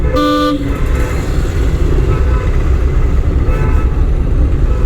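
A car horn blares in a short loud honk at the start, over steady heavy road traffic rumble, with a fainter honk later.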